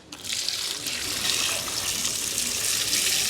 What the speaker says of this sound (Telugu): నీళ్ళు కూడా పోసుకుందాం ఉడకబెట్టుకోవాలి కదా ఇట్లనే